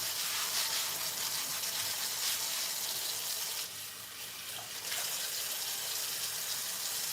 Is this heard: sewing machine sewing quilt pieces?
no